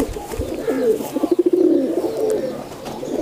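High flyer pigeons coo close by, a few soft throaty warbling rolls rising and falling over quiet background rustle, with no talking.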